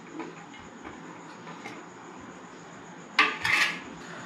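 Grated boiled potato mixed with raw onion and green chilli in a bowl, making faint squishing and then a couple of sharp clinks of a utensil against the bowl near the end.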